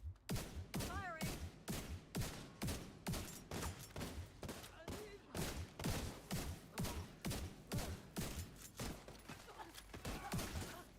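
Rapid video game gunfire crackles in a long run of sharp, evenly spaced shots, loud and close throughout, with brief bursts of talk in the mix.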